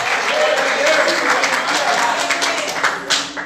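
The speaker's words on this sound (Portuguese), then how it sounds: "Se é para Deus, aplauda mais forte, aleluia." A church congregation applauds loudly during a sermon, a thick wash of clapping with murmuring voices mixed in, tapering slightly at the end.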